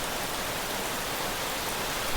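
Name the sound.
heavy rain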